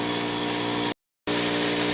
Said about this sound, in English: adjust your air accordingly so that you get a nice spray coming out